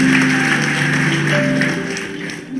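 A church congregation at an Ascension Day service in Indonesia applauds in a steady, dense wash of clapping that stays fairly loud, then thins slightly near the end, with faint tones beneath it.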